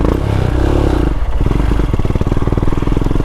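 Royal Enfield motorcycle engine running roughly and sputtering out on a green-lane trail ride, a steady close rumble that breaks up partway through into uneven chugging pulses.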